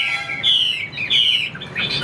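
Caged Chinese hwamei songbird singing close by in a bright, loud run of warbling phrases and whistled trills, repeated in three bursts with brief gaps, clear and alone without talk.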